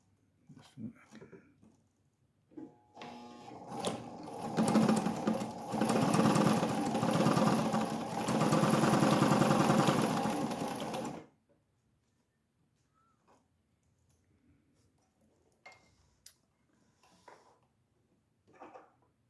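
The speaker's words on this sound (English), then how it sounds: "trust me, this is not easy leather to sew through. So switch over to a zigzag now." A vintage White Model 764 sewing machine from the New York World's Fair, running a zigzag stitch through tough leather, gives a steady mechanical whir and clatter. It lasts about eight seconds, then stops, leaving faint handling sounds and quiet talk.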